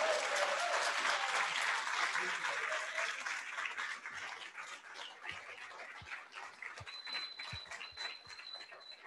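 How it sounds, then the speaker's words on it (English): Audience applause after a student debate, dense clapping at first that thins into scattered claps as it fades, with a faint tonal chirp late on. "Please give them one more round of applause for their hard work."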